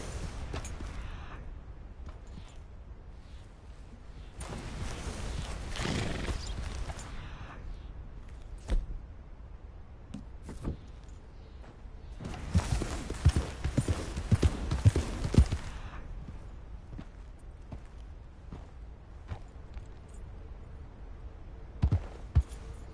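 Horse hooves in Red Dead Redemption 2 beat out a steady clip-clop rhythm, close and fairly loud, with denser bursts of hoofbeats midway and near the end as the mount picks up pace.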